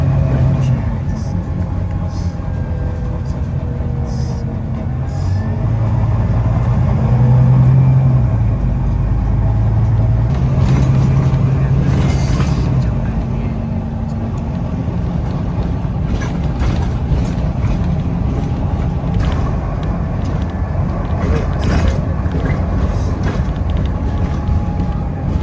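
A National Express coach rolls toward London Heathrow Terminal 3, its steady low engine drone and road rumble filling the cabin at an even level, with a person speaking over it throughout.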